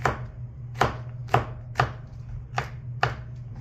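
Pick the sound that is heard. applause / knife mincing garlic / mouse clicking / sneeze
knife mincing garlic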